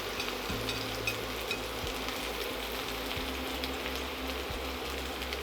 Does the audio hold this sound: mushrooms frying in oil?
yes